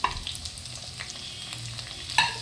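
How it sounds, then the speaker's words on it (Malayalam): Onion and tomato frying in a pan over a low flame, a constant crackling sizzle with soft stirring scrapes throughout and a sharper metallic clink near the end, close by. "ഞാൻ ചെറു തീയിലാണ് കേട്ടോ അത് വറുത്തെടുക്കണേ. ഇനി തക്കാളിയും കൂടി ഇട്ട് കൊടുക്കാം."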